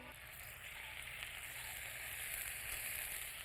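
Ginger and green chili paste fries in a pan with a soft, even sizzle that stays moderately quiet and steady throughout, with no talking.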